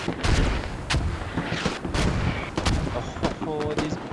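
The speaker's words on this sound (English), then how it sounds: "Oh, these mortars." Mortar and gunfire in a team-based military video game match, BLUFOR versus TLR: repeated loud booming impacts and shots in irregular succession, with a voice talking over the battle noise.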